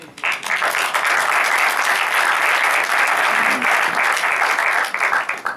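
A theatre audience at a Palestinian film festival breaks into sustained, dense applause that holds steady for several seconds at full strength before easing slightly at the end.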